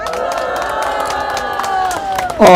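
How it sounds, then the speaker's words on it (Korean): An audience at an outdoor political party press conference breaks into applause, a dense wash of clapping and crowd noise under ringing amplified sound, swelling sharply at the end. "박수로 감사하겠습니다."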